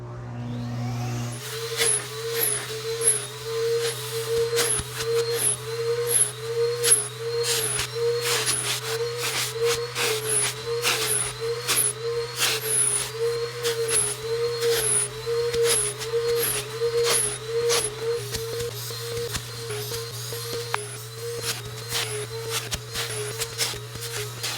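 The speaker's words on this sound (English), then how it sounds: "You're gonna see this amazing vacuum cleaner do its job here, just drawing every bit of dirt out of that fabric." A Ridgid portable shop vac draws dirt out of fabric with a loud, steady, close whine and a low hum, punctuated by regular rapid clicks and rustles as the nozzle passes.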